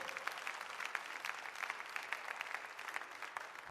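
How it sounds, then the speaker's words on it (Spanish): A church congregation applauding God during a service, steady rhythmic group clapping heard softly from a distance, continuous with no talk over it. "¿Cuánto le dan palmas al Dios Todopoderoso?"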